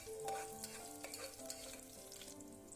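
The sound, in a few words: onions sautéing in a pan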